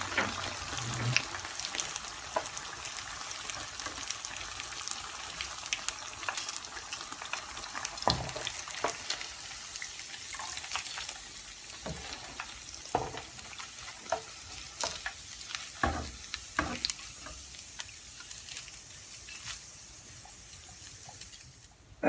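Thread chicken fries in hot oil with a continuous sizzling crackle, broken by occasional louder pops and stirring clinks, close and steady throughout.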